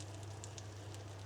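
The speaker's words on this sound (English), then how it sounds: "You can hear it sizzling." Soft, continuous sizzling crackle close by as butter melts on hot cornbread, faint and steady, with a low hum underneath and no voices.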